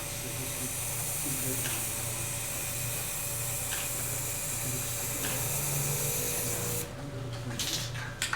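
Aerosol spray paint laying a coat of black paint onto a slowly turning workpiece on a lathe-like turner, a steady close hiss over a low motor hum, with faint ticks and a brief change near the end.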